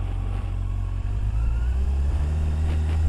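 A motorcycle pulls away in first gear, its engine a loud, steady low rumble that holds close and constant throughout, with no talking.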